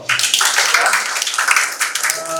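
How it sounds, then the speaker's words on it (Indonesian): A class in a school lesson claps for a student: a short burst of dense, close clapping from a group that holds steady and then tapers, with a faint voice near the end. "tepuk tangan buat Raymond"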